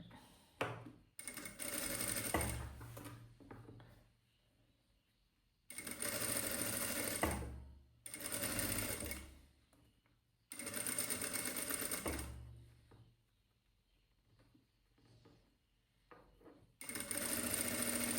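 A sewing machine stitching darts on a blouse, running in several loud bursts of rapid mechanical whirring and ticking separated by short quiet pauses.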